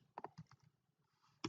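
Bursts of computer keyboard typing while code is entered, a few quick close keystrokes near the start and another sharp cluster at the end, with quiet gaps between.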